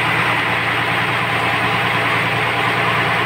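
The engine of a RoRo ship fitted with a Power Up Fuel Combustor idles in a dense, unbroken rumble, loud and close with a steady low throb and broad mechanical noise, and no voices.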